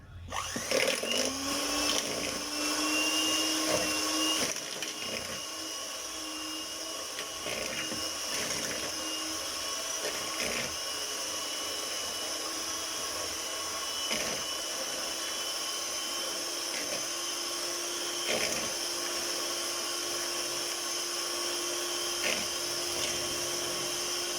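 An electric hand mixer runs at high speed whipping cream for a caramel dessert, giving a steady whirring motor hum that continues alone throughout.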